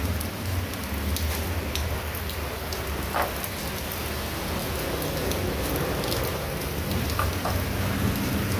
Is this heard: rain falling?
yes